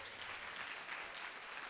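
Faint, distant applause from a church congregation after the band plays, a soft continuous patter of many hands heard from far back.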